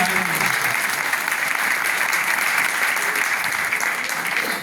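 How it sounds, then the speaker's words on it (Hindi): Steady, dense applause from a crowd at a meeting in Digha, loud and continuous without pause. "अरे ताली बजाओ तो जोर वाली बजाओ, ट्रेन वाली नहीं।"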